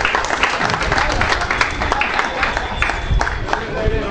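Applause from a group at an informal award ceremony, steady clapping for about four seconds with crowd noise mixed in and no distinct speech.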